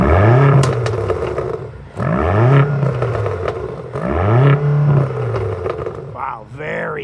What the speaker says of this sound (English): let's do some rev time with Ashlyn.